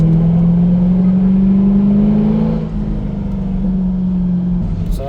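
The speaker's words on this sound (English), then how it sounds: "I've seen just an SLS just turning up, and there's an SLS, a very rare car" A rare Mercedes SLS sports car at a Mercedes dealer club meet, its engine droning loud and close with a slowly rising pitch, held steady for several seconds before easing slightly.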